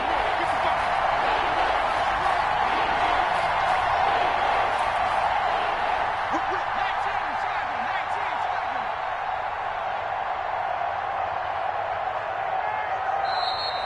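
Football stadium crowd roars in a sustained, distant wash of cheering and noise ahead of a big third down in a championship-round game, steady throughout with no clear individual voices.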